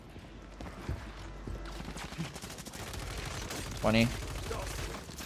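Gunfire in Warzone 3 on Rebirth Island, with scattered quiet distant shots and rattling bursts under game sounds, and a voice speaks briefly.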